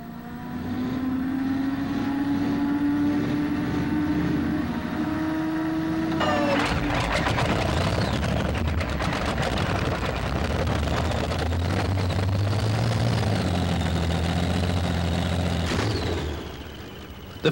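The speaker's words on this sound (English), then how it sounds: "the V12 Allison engine tractor has become a very popular machine on the modified circuit" V12 Allison aero-engine pulling tractor on a modified-class pulling run, a loud, sustained engine howl with rising pitch that drops abruptly midway into rough, roaring thunder before easing off at the end.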